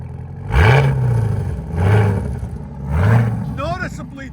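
Three rising revs from a 2022 Cadillac CT5-V Blackwing with straight pipes, each swelling loudly and then falling away, with voices talking over the engine.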